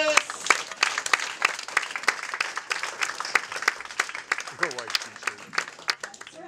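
An open-mic comedy audience claps and cheers for comedian Nicole Ramirez, a dense burst of sharp hand claps that thins into scattered clapping, with a voice briefly heard through the applause.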